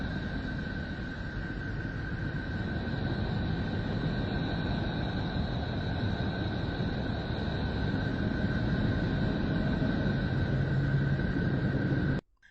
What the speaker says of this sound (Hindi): ये नेपच्यून की आवाज है।